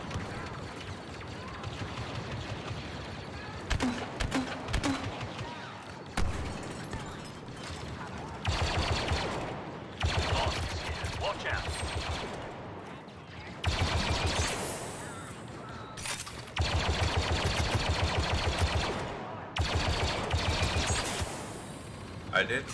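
Blaster and gun fire from a Star Wars Battlefront 2 match, coming in repeated loud bursts and volleys with short gaps between them, mixed with game effects and some speech.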